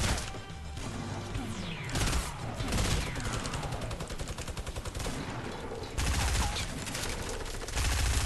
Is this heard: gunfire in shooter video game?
yes